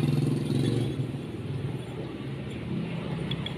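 A Yamaha NMAX 155 scooter with a loose roller housing idles steadily with a low, rough rumble and faint rattling knocks from the drivetrain, close up.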